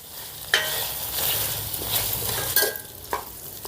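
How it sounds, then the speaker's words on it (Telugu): Potato pieces frying in hot oil in a pan while being stirred, a steady close sizzle broken by a few sharp scraping stirs of the spoon, with no talking. "ఇప్పుడు ఈ బంగాళదుంప ముక్కల్ని మధ్య మధ్యలో కలుపుకుంటూ సెవెంటీ పర్సెంట్ వరకు ఫ్రై చేసుకుందాం"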